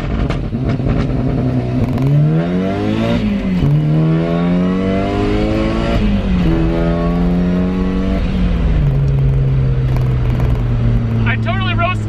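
A turbocharged Mazda Miata engine holds a loud, steady rev on launch control, pitch climbing and settling in steps with a buzzing exhaust, while someone talks over it throughout.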